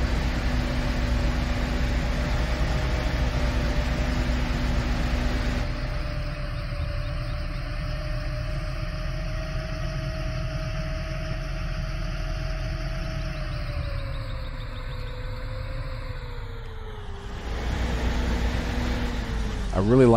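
A Fendt Vario 700 SCR series tractor from a farming video game mod idles with a steady, deep engine drone heard from inside the cab, holding an even pitch before it dips and shifts near the end.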